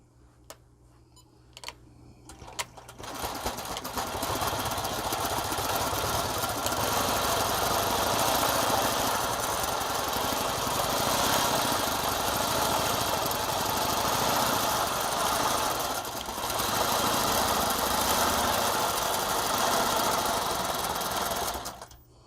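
A longarm quilting machine stitches continuously for a long stretch while basting a loaded quilt, giving a steady close mechanical hum and rapid ticking that starts after a few faint clicks.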